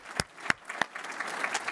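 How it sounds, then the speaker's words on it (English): Audience at a fintech startup demo day applauds its sponsors, a few sharp claps standing out at first before a thinner spatter of clapping carries on. "give a round of applause to thank all of our sponsors who are here today"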